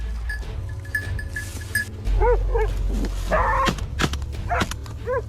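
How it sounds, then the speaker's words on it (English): Several hunting dogs bark and yelp in short overlapping bursts, fairly close, while cornering a wild boar, with a steady low rumble underneath. "the pack of hunting dogs surrounded, barking loudly"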